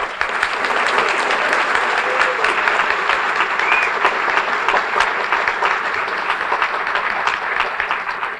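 Sustained applause from the audience at a middle school National Junior Honor Society induction ceremony, a dense, steady wash of many hands clapping at close range that holds evenly throughout without pause.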